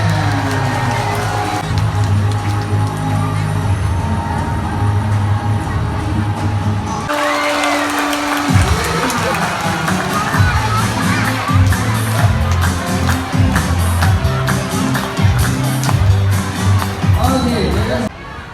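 A crowd of schoolchildren on a study tour cheers, shouts and claps at a live show, the noisy, lively din running throughout under a loudspeaker voice and music.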